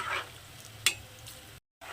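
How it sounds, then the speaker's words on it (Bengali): Semolina langcha sweets frying in hot oil, a steady soft sizzle with faint stirring clinks and a brief sharper scrape, ending in a short silent gap. "এগুলোকে আমি একটু উল্টে পাল্টে এইভাবে একদম লাল লাল করে ভেজে নেব"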